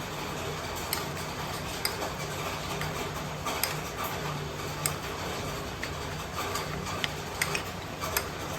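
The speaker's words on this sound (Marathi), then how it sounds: "हा चमचा भर तेल घालायचं आहे आणि व्यवस्थित मिक्स करून घ्यायचं" A spoon mixes oil into a mixture for tomato bhaji, producing a fairly steady run of light ticking taps and scrapes against the bowl.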